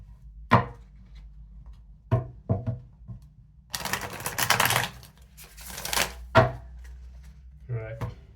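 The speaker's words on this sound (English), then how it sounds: "Give one more good shuffle." A deck of tarot cards is shuffled close by with a dense riffling flutter in the middle, framed by scattered taps and knocks of cards against a surface, while a voice speaks intermittently.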